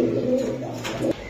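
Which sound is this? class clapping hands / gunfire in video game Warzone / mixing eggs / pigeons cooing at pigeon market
pigeons cooing at pigeon market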